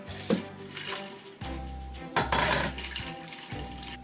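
Cooked lasagna noodles are drained from a pot into an ice bath, giving close metal clanks and pot clatter with bursts of splashing water, loud and uneven, with no talking.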